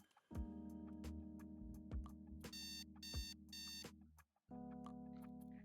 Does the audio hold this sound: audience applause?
no